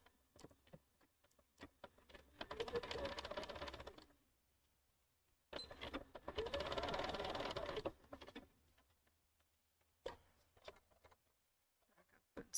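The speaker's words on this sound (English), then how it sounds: "And we're able to just start sewing from here." A sewing machine stitches a hem on a cotton tea towel in two steady whirring runs of about two seconds each, separated by quiet pauses with soft clicks and handling noises, fairly faint and close.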